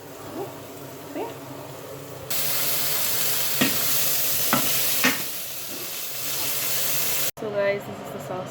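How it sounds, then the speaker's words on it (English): Onions and garlic frying in a pan, a steady loud sizzle that swells partway through with a few scraping stirs, a brief cut near the end, and some talk in the background. "So currently I'm just cooking the onions and the garlic"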